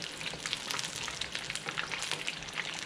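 Beer-battered fish pieces frying in hot oil in a wok, a steady close sizzle and crackle with small spits and bursts over the whole stretch, no talking.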